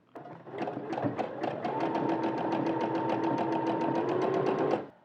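A sewing machine runs a quick, evenly pulsing stitch through fabric stretched together with elastic, close and continuous for nearly five seconds before stopping.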